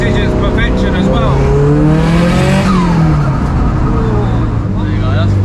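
A 556hp Subaru Impreza STI accelerates hard at full throttle, its engine note climbing steadily and loud from inside the cabin while people talk over it.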